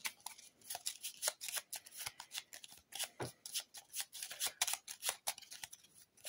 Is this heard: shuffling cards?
yes